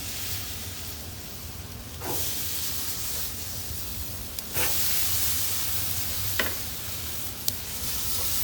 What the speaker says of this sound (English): I'm gonna do them bone side down to start with.